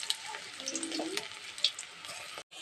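Puffed rice fritters (muri chop) frying in a pan of hot oil give a steady crackling sizzle with brief sharper pops, close by, with no voices.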